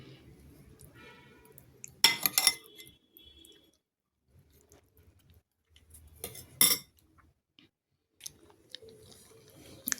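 Cutlery scraping and clinking against dishes during a home dinner of shol fish, in two or three short clattering bursts separated by near silence, close and fairly quiet.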